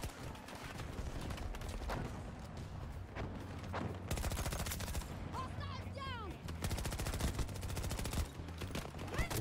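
Rapid SMG gunfire and other automatic weapons crackle in a Battlefield 2042 match, dense bursts mixed with game explosions and effects, loud and continuous with no clear pauses.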